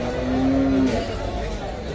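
Cow lowing at a livestock market in San Miguel, El Salvador, a steady low moo of about a second over busy outdoor background noise.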